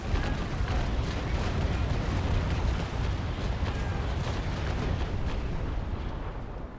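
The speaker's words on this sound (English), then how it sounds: "drop the cannons and fire" A naval cannon broadside roars in the Naval Action sailing battle game, Trincomalee and Indefatigable frigates trading fire, a loud continuous rumbling wash of overlapping booms that stays heavy throughout before easing slightly at the close.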